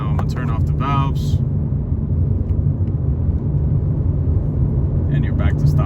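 A BMW G80 M3 fitted with an IRL 4-inch modular midpipe runs with its exhaust valves closed, producing a steady, subdued low droning rumble, with a person talking briefly at the start and end.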